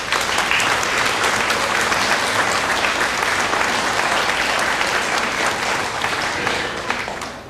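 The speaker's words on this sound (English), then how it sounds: "so give yourselves a round of applause." A room full of people applauds veterans being honored at a ceremony, steady dense clapping sustained loud and close for several seconds before tapering slightly at the end.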